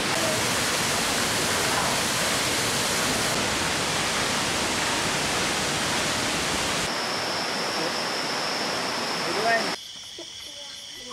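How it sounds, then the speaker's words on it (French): A large waterfall in Cambodia roars as a steady, loud broadband rush that holds for most of the stretch before cutting away to quieter ambience near the end. "cela ne nous empêche pas d'admirer cette superbe cascade."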